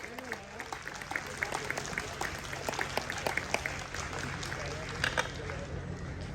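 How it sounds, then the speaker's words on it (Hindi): A conference audience claps steadily, a dense patter of applause that swells in bursts, with a murmur of voices underneath. "जोर से तालियां बजाएंगे स्वागत करते हुए।"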